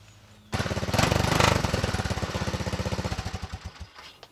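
A small Honda three-wheeler engine, just fixed with a new pull start and air intake, fires up loudly and chugs with a rapid, rough pulsing beat that slowly eases toward idle before cutting out, with no one talking.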